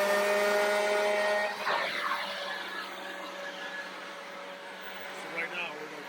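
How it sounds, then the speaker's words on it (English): A Toro Ultra blower vac roars at full power while blowing leaves, a steady loud whine and airy rush that dips briefly partway through and then continues evenly. "We're blowing the leaves."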